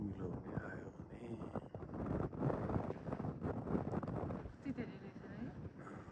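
Wind gusts across a microphone in Bradgate Park, Leicester, a rough steady buffeting rush that fills the whole stretch, with a voice speaking faintly beneath it.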